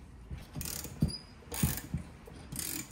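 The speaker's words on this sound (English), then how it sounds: "So now we're moving this nut." A nut on a PWG N55 Pure500 being turned with a tool, giving repeated ratcheting and metallic clicking bursts in an uneven rhythm, close and fairly loud with no talk.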